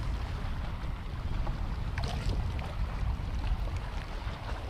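Wind buffets an open boat while bass fishing on New Melones in bad weather, a steady broadband rush with low rumble and faint water slaps throughout, no voices.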